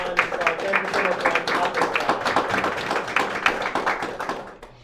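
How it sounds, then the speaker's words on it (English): An audience at a talk on Ossorian origins breaks into a steady round of applause, dense overlapping claps filling the room at close range before trailing off at the end. "I just want to give a quick round of applause to my tech team, Kevin and Chris over there."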